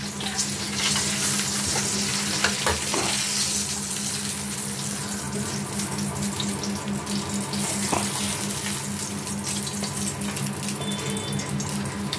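A loud, continuous hiss of bottle gourd leaves frying in a pan fills the clip, steady and close, with a low electrical hum underneath.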